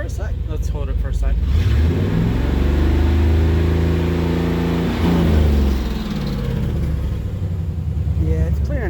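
A warmed-up 1989 Chevrolet R30 square body truck engine is held at high revs for several seconds, a loud sustained roar that then drops back to a rumbling idle, with voices heard around it.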